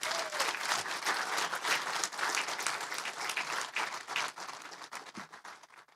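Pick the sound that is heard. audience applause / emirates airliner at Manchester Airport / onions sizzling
audience applause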